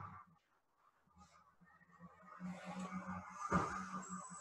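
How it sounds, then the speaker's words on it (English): Distant crows caw outside while a garbage truck's low engine rumble grows louder as it pulls up, with a sharp clank near the end. "I hear lots of crows out there and lots of the garbage truck is pulling up"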